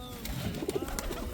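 Pigeons in a home loft give a brief, soft, low coo, close to the listener but quiet, with no talking in the moment.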